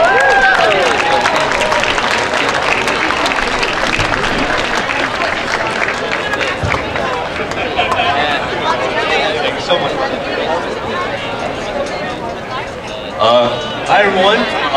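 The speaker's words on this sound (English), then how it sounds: "a round of applause for the festival co-chairs, Quillen Rusky and Matthew Nagatomi." A crowd applauds at the opening ceremony of a Japantown cherry blossom festival, a dense sustained clapping with chatter throughout that thins slightly toward the end before a brief renewed burst.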